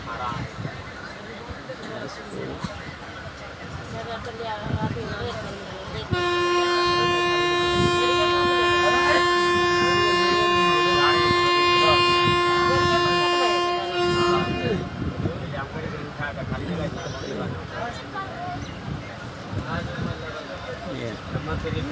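An Indian passenger train bound for Tamil Nadu rumbles along as a loud, sustained horn blares for about eight seconds mid-clip, with voices faintly in the background.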